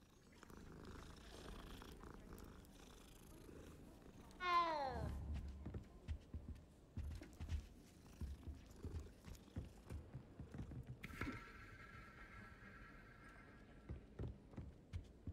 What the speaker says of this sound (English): We have to pet every cat we pass, by the way.